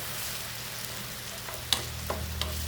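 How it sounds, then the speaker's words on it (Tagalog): Chicken frying in a pan with a steady low sizzle, close by, broken by a few faint clinks of stirring. "iluto ko muna yung chicken dito guys"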